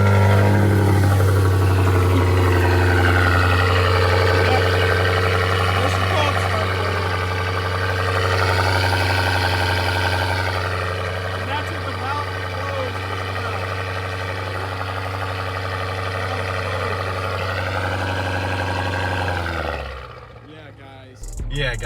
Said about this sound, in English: let's do a cold start because the engine's still really cold.